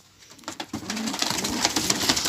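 Pigeons coo and shuffle on a rooftop, their soft calls mixed with busy rustling and bird sounds that build and stay fairly loud after a quiet start.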